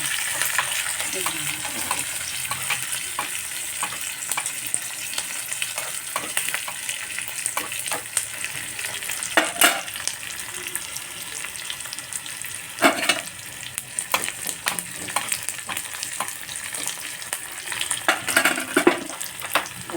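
Garlic and onion frying in hot oil as a tempering for dal sambar, a continuous close sizzle with occasional louder crackles and stirring scrapes.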